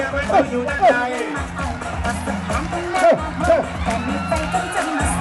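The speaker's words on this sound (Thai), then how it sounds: "เอาละครับสองเชียร์ครับปรบมือดังๆครับ" Crowd cheering with whoops and shouts at an outdoor traditional rice-honoring festival in Sangkha district, Thailand, a dense lively din of voices and calls carrying on steadily throughout.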